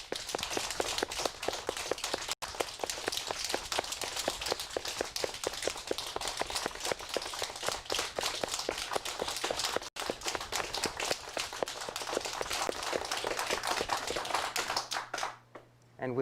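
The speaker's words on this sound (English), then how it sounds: "greet him with a hearty round of applause" A hearty round of applause greets a newly installed Worshipful Master at a Masonic lodge ceremony, many hands clapping densely and steadily for about fifteen seconds before cutting off.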